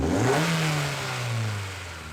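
A car engine with a strong induction intake sound revs once, rising to a loud, throaty peak and then slowly falling back toward idle, heard up close over about two seconds.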